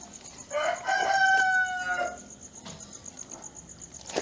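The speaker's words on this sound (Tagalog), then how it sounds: "Sarap ang ganun mga tilaok po ng manok." A rooster crows once, a long rising-and-falling cock-a-doodle-doo, fairly close, followed by quieter outdoor background with faint clucks.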